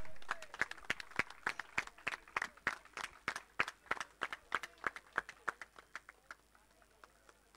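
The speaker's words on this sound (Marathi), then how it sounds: "जरा टाळ्या वाजवा." Crowd applauding at a cricket league prize ceremony, a run of sharp claps at a brisk, uneven pace that thins out and fades toward the end.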